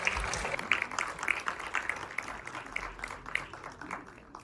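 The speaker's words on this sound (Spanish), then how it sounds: "Un aplauso para ellos." Applause from a film screening audience, the clapping dense and steady at first, then thinning gradually toward the end.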